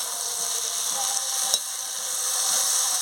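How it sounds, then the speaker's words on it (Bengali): Fish head and vegetables frying in a pan, a steady close sizzle with light stirring scrapes and one brief clink midway, no voices. "সবজি মাছ ভালো করে ভেজে নিচ্ছি"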